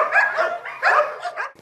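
Police training puppies bark while playing together, several short yapping barks in quick bursts, close and fairly loud with no talking.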